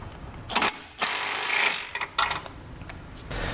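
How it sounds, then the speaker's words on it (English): An 18mm socket on a ratchet working bolts loose during a Blue Ox base plate install on a 2014 Chevrolet Malibu, with close metallic ratcheting bursts, clunks and a longer stretch of clicking. "We're going to grab an 18mm socket and we're going to pull both of those bolts out."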